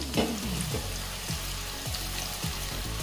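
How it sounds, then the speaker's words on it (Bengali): Onions frying in white oil in a wok on a gas stove, a steady close crackling sizzle with a few sharper pops and spatters throughout, no voices. "এবারে এই পেঁয়াজগুলো তেলে দিয়ে দিচ্ছি।"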